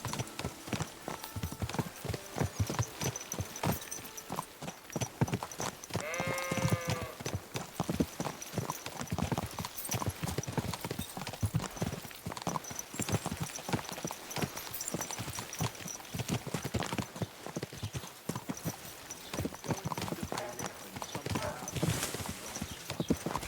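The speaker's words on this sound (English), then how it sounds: "Is this your first time riding a horse?" Rhythmic clip-clop of horse hooves at a steady trot in the video game Kingdom Come: Deliverance 2, with a brief whinny early on, moderately quiet and close.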